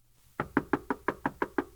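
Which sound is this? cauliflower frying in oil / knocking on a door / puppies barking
knocking on a door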